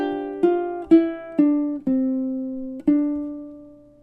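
Measures 1 and 2 of a Christmas song on ukulele: six clean plucked notes in a slow, even rhythm, each ringing out and fading before the next, played solo and close.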